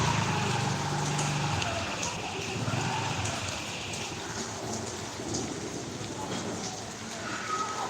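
Steady heavy rain pouring down outdoors, a continuous dense hiss with low rumbling underneath, moderately loud throughout with no pauses.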